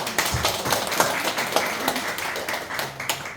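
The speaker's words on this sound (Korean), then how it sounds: "그냥 박수 치는 거 다시 한번 부탁드릴게요." Congregation clapping in a Korean church service during the announcements, a steady patter of many hands at moderate, even level throughout, with no talk over it.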